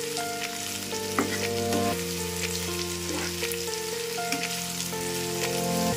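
White gravy for matar malai paneer sizzles steadily in a pan while being stirred, with occasional soft scrapes over a continuous frying hiss; a steady tonal hum runs underneath.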